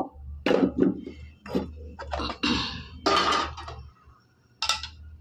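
Breakfast being served onto plates with utensils in a home kitchen, with several separate clinks and scrapes of spoons against dishes coming in irregular bursts with short pauses between them, close and fairly clear.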